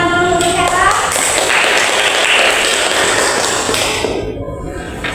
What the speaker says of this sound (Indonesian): Kita beri tepuk tangan dulu untuk Hera